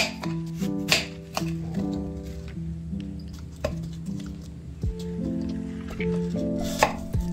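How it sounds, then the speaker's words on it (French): A knife slicing apples into rounds, giving a series of crisp cuts and soft thuds on a board at an uneven pace, close and clear, with steady background music playing underneath. "je coupe donc 3 pommes en rondelles"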